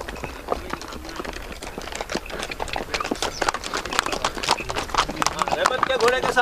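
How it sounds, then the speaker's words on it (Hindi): Horse hooves clip-clop in a quick, steady rhythm close by in Gulmarg, Kashmir, while people talk over them throughout. "यहाँ पे घोड़ा है"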